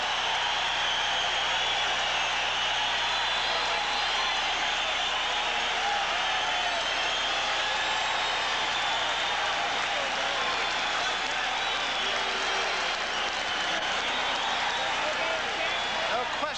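Boxing arena crowd roaring and cheering as the middleweight champion enters the ring, a dense, steady wall of noise close and loud throughout, with a commentator talking over it.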